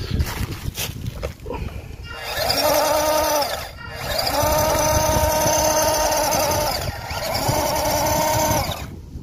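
A 1/14-scale 4WD RC jeep with a 260 motor strains up a trail gradient, its electric motor whining in three sustained, rising bursts separated by short pauses, close and loud with crunching terrain underneath.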